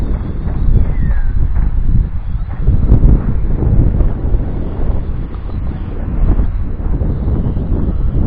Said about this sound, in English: Bit of a wind, head headwind in my face here now